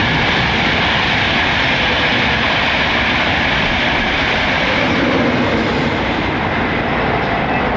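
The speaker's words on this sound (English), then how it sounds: "Them trains are really noisy." A loud train rumbles past close by, a dense continuous roar of wheels and engine filling the whole stretch.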